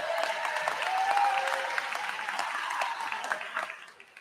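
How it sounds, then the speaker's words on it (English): A crowd applauds at a high school graduation ceremony, steady clapping with a few cheers that swells, then fades out over a few seconds. "Clap it up for him."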